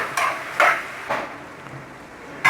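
Vegetables being stirred into chicken jalfrezi in a pan, with a few distinct scraping clatters of a utensil against the metal pan, spaced apart, over a faint background hiss.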